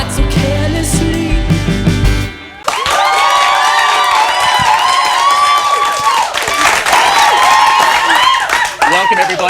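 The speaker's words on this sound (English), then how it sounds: "That is an applause." A large crowd claps and cheers loudly and continuously at a live music talk show, with whoops and shouts rising over the applause, following a brief stretch of music.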